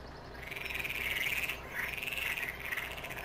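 Odd, grating duck calls from a Farming Simulator 2017 game world, repeating in a few drawn-out, wavering squawks over a steady low background hum.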